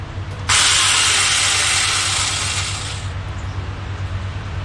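A loud, high-pitched angle grinder fitted with a chainsaw adapter whines steadily at its single speed for about two and a half seconds, then cuts off, leaving a low mechanical hum underneath.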